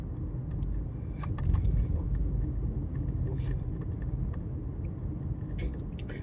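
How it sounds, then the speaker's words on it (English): A car runs with its air conditioner on, giving a steady low engine rumble and blower hum, with a few faint clicks and rattles close by. "Let's put the air conditioner back on again just to get the temperature back to normal."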